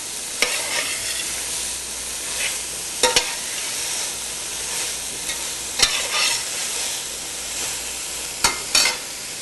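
Black-eyed peas and canned beans stirred with a spoon in a pot over low heat: a steady soft rustle broken by a few distinct scraping strokes spaced a few seconds apart, close up and with no talking.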